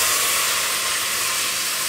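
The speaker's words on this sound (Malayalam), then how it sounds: "ഞാൻ ഇതിലേക്ക് നമ്മൾ വേവിച്ച് വെച്ച മുതിര ആ വെള്ളത്തോടു കൂടെ തന്നെ ഒഴിച്ച് കൊടുക്കുകയാണ്" Cooked horse gram and its cooking water are poured into a hot pan, setting off a loud, steady hiss of sizzling steam. The hiss is close and continuous throughout, with no talking.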